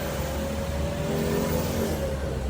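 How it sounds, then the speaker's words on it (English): A car accelerates through morning city traffic, its mid-pitched engine rising steadily in a continuous close rumble, with other street traffic noise underneath. "Morning traffic"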